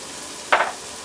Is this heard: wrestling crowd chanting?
no